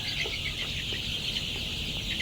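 Egyptian Fayoumi hens raised for eggs cluck on a poultry farm, a steady, dense chatter from many birds at moderate volume with no talking.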